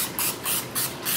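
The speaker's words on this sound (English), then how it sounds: "we're gonna get a little bit of cooking spray on here." Cooking spray hisses onto beef ribs for oven roasting in four short even bursts, each about a fifth of a second, close and fairly soft.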